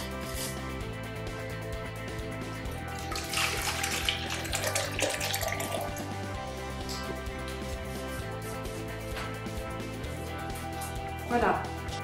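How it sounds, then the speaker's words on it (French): Milk poured into pancake batter, a steady liquid stream running for several seconds, close and moderate, with a person talking over part of it. "Je rajoute 90 centilitres de lait."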